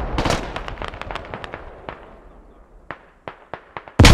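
A grenade from the video game Squad, in a France vs Poland match on the map Chora, blasts with a sharp burst of rapid popping cracks. Scattered bangs follow and a loud boom lands at the end.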